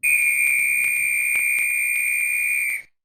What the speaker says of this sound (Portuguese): Aí é o som do apito